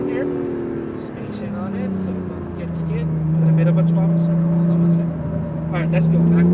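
A 2017 Acura NSX engine pulling under throttle on a track, a loud droning note that rises and holds from inside the car, with a person talking over it.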